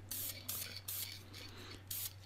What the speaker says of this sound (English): I am spraying the head with clear satin